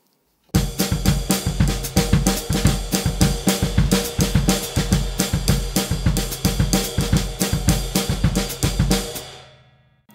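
A drum kit plays a jazz samba pattern at a fast tempo, with busy, even cymbal and snare strokes over a steady kick, close and loud for about nine seconds before the sound dies away.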